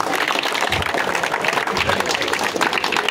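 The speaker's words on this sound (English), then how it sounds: "Let's clap for my team for being perfect on going on time" An audience at a birthday function applauds in a dense, steady burst of clapping, close and loud, with voices mixed in.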